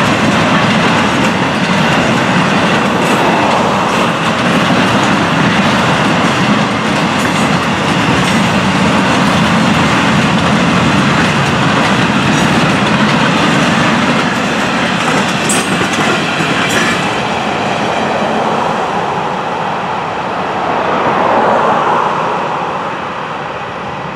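FEC 206, a freight train of stacks and piggybacks, rumbles past close by with steady loud wheel noise and clickety-clack for the whole stretch, easing slightly near the end.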